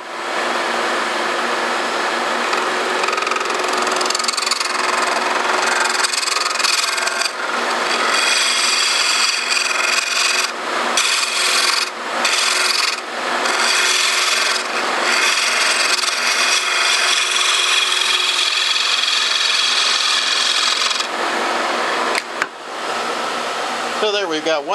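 An offset wooden walking stick spins on a lathe as a tool scrapes and rasps along it, a continuous hissing grind with short dips and bursts as the cut changes, close and fairly loud.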